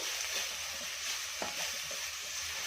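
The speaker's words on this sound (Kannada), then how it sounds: "ಒಂದು ಕಪ್ ಆಗೋಷ್ಟು ನಾನು ಕೊತ್ತಂಬರಿ ಸೊಪ್ಪನ್ನು ಕಟ್ ಮಾಡಿ ಹಾಕೋತಾ ಇದ್ದೀನಿ ಈಗ ಇದನ್ನು ಕೂಡ ಚೆನ್ನಾಗಿ ಫ್ರೈ ಮಾಡ್ಕೊಳ್ಳೋಣ" Chopped coriander leaves frying in a pan sizzle steadily and close, with light stirring scrapes over the continuous hiss.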